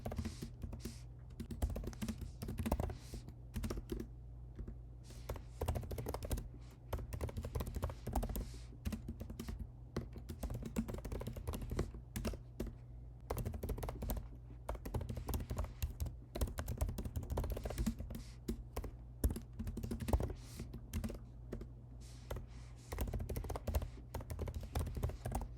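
Code being typed on a computer keyboard, entering a genotype filter expression for genome variant filtering: a steady, continuous stream of rapid, close keystrokes over a low background hum, with no talking.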